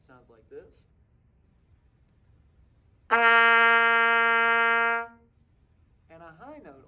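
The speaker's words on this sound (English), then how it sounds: "A low note on the cornet sounds like this." Single sustained low note on a cornet, held about two seconds, close and steady, with a voice speaking before and after.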